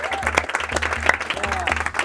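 Audience applause at a masterclass event, steady clapping from a crowd filling the room, with a low repeating musical thump underneath and some voices mixed in.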